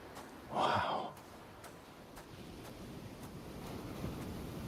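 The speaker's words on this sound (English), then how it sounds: "I never grew accustomed to the air up here. It gusts senselessly whichever way it pleases." Gusting wind in the Hades video game blows as a steady, hissing rush, swelling into one stronger whoosh early on before settling back into a constant airy drone.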